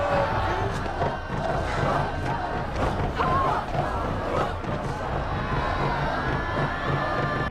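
A crowd cheering and shouting at the arrival of captives for sacrifice in a Maya scene, a dense continuous roar of voices with whoops and battle cries at steady loudness.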